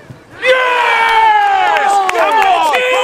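A football crowd at a Plumstead Cup quarter-final roars and cheers loudly, many voices shouting and whooping together in a sustained, close chorus.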